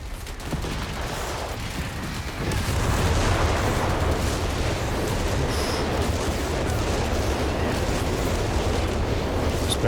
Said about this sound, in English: Spang rockets zoning the Gossatori from going in for the capture though at least